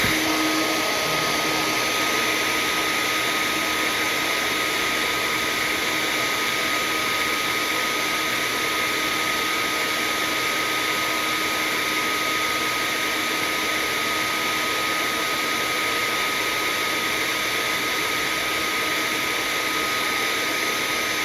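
A heat gun blows hot air steadily onto an action figure during a repair, producing a constant loud, close whooshing whine that continues unbroken with no talk.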